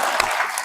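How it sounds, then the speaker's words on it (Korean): Applause from a church congregation in Korea, hands clapping in a dense, steady burst that stays evenly loud throughout. "여러분 서로서로에게 감사의 박수 한번"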